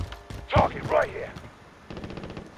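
A few sharp gunshots crack in a Call of Duty: Modern Warfare match, two louder reports close together followed by a faint rapid burst, with a player's voice talking over them.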